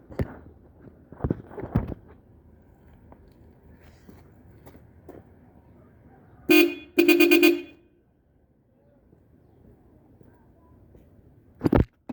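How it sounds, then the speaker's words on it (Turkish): A new-type riveted Hella car horn sounds in short bursts, one single honk, then a quick pair of toots, and another brief honk later, separated by near silence and faint handling noises. Slightly thinner tone than older Hella horns. "Şimdi kornamızın nasıl öttüğüne bakalım."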